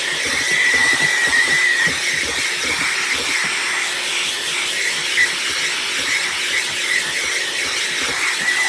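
A Festool HSK 80x130 hand sander, connected to a vacuum, whirs with a steady, continuous hiss and a faint high whine, running without a break.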